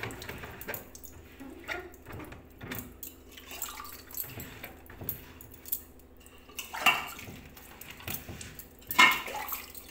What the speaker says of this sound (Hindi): अरे पानी से धोई दी, पानी से धोइए पूरा साफ हुई है।